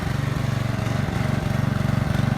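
Old rear-engine riding lawn mower running close by, its small engine chugging in a fast, steady pulse with no talking.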